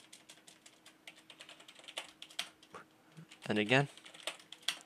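Quick keystrokes on a computer keyboard while entering Proxmox commands, brief irregular clicks scattered throughout, with someone speaking briefly midway.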